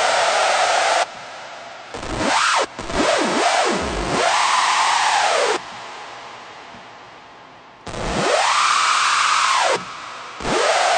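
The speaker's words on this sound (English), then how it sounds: "So I made a quick patch on Spire." A hardstyle screech synth patch built in Spire plays loud, harsh, gritty bursts with pitch sweeps that dive and rise, separated by short gaps and a quieter sustained section.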